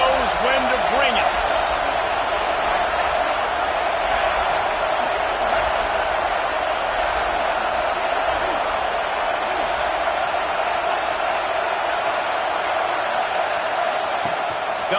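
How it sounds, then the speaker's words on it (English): Football stadium crowd roaring at a college game, a loud, dense and sustained wall of cheering with scattered thumps and claps throughout. "This crowd knows when to bring it."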